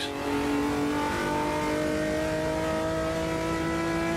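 Straight-six race car in a racing game, engine revving hard and steady with a gruff, buzzing tone, sustained close and loud for a few seconds without any talk.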